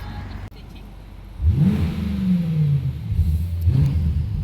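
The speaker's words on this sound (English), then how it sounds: "we're driving the BMW M8" A black carbon-fiber BMW M8 coupe on the road, its engine rumbling steadily and then revving up in two rising surges, a loud, close, continuous drone with no talking over it.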